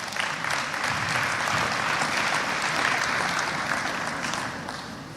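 An audience applauding at a Northern Caribbean University convocation, a steady wash of clapping from a large hall crowd that swells and then fades near the end.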